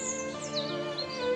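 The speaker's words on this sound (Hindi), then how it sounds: "परिंदों की चहचहाने की आवाज" Birds chirp and tweet in short, bright calls close by, a quick burst of several rising and falling notes over a soft background.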